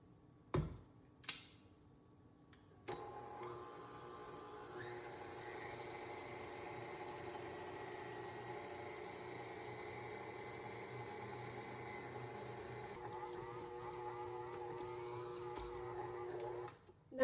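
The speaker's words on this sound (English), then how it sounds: "We're going to put it in the stand mixer for 10 minutes with the hook attachment." A stand mixer fitted with a dough hook kneads rosemary bread dough, giving a steady, even motor hum with a faint rhythmic ticking that runs without a break after a few sharp knocks at the start.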